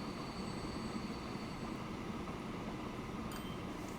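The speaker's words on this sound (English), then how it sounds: "It's a right monster of a train" A long freight train rumbles steadily in the Transport Fever 2 game, a broad continuous mechanical roar with faint high tonal whines and a brief clatter near the end.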